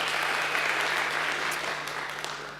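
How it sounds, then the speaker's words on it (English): A conference audience gives a sustained round of applause, dense clapping that stays loud and fades slightly toward the end. "Let's just give them a round of applause."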